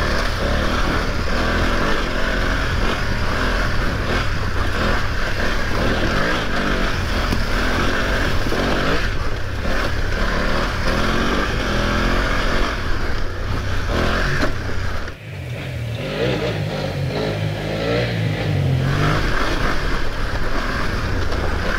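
A BMW F900 GS Enduro motorcycle rides through deep off-road ruts, its engine droning steadily under heavy, buffeting wind noise, with a brief dip midway before the rumble resumes.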